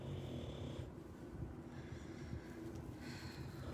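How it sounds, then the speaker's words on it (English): An English bulldog snores in slow, rumbling, throaty breaths, recorded close and fairly quiet with no voices. "Yes, Jean, I have an English bulldog, and he snores like a trucker."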